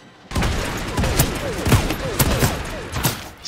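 Rapid gunfire in the Realm Royale battle-royale game crackles in quick bursts of close, sharp shots from several directions, with whizzing sounds between them.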